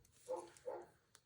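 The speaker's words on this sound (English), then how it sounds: "if you hear a dog, I'm so sorry. That's my neighbors." A neighbour's dog gives two muffled barks from a distance, faint and spaced apart, with a small knock after them in an otherwise quiet room.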